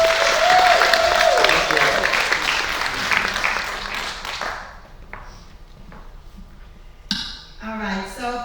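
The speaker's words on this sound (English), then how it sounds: "let's give a warm applause to Nkechi Taifa." Audience at a Kennedy Center event applauds a panel speaker, a dense wash of clapping with a brief tone early on that fades after about four seconds into scattered claps and faint noises.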